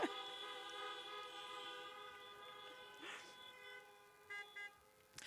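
Car horns honk at an outdoor Iowa campaign event: a long sustained blare runs through most of the clip, then two short toots sound near the end over a crowd backdrop.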